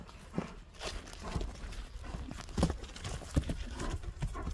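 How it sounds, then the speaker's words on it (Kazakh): A horse walks on the ground during a Kyrgyz ulak horse sale, its hooves clip-clopping in an uneven rhythm of close, distinct thuds, with no one talking over it. "Аттын басыгына туура эмес көрүнүп калбасын, жакшылап байкаңыздар."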